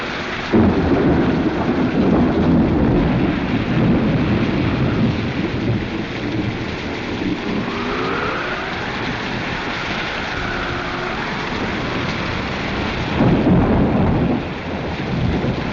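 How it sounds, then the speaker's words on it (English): Heavy rain pours steadily through a thunderstorm on a ship at sea, with rolling thunder rumbling loudly at the start and again near the end, a continuous dense roar throughout. "It's too dangerous in the storm."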